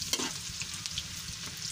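Food being sautéed in a pan at an outdoor cooking spot, a faint steady sizzle with a few light scrapes and taps over a short stretch.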